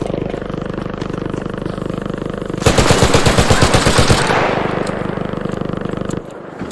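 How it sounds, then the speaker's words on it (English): Automatic gunfire in the ARC Raiders shooter game, a rapid rhythmic burst of about a dozen loud close shots lasting roughly two seconds, rising out of a steady droning background and trailing off into a lingering rumble. "He probably thought it was me shooting at him"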